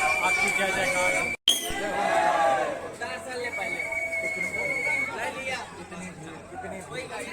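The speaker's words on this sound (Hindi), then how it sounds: "कितनी भीड़, भक्तों के अथाह तांता लगा हुआ है" A dense crowd of devotees throngs the Kamadgiri temple at Chitrakoot, a lively hubbub of many overlapping voices close around, with a voice speaking over the babble and a brief dropout early on.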